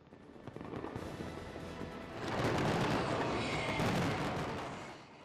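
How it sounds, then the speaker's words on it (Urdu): New Year fireworks at the Burj Khalifa in Dubai crackle and pop in a dense, continuous barrage, swelling louder midway and staying intense before easing slightly at the end. "دبئی میں سال نو کے استقبال کے لیے جشن کا مرکز دنیا کی بلند ترین عمارت برج الخلیفہ بنی، جہاں شاندار آتش بازی کا انتظام کیا گیا تھا"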